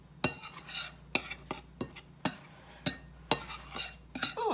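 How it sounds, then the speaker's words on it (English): Dry baking mix ingredients being stirred in a bowl, a utensil scraping and clinking against the sides in repeated sharp strokes at an irregular rhythm, fairly close and quiet. "And now we're just going to mix the dry ingredients together."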